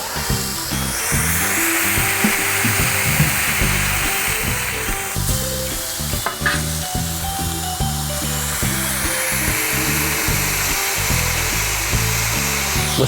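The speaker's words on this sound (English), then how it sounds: "Listen to that sizzle." Smash burgers sizzle on a Solo Steelfire 30 griddle with a loud, steady, close hiss of frying that holds throughout over a low rhythmic backing.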